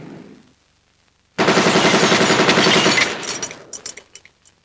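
Gunfire in a Sino-Vietnamese war film: after a near-silent gap, a sudden loud sustained burst of rapid machine-gun fire rolls on for about two seconds, then breaks into scattered single shots that fade out.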